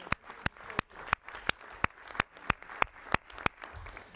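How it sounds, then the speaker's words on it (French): In a municipal council meeting room, hands clap in a slow, even beat of about a dozen sharp, separate claps, quiet and sparse, like one person or a small group rather than a full crowd. "Tu peux applaudir."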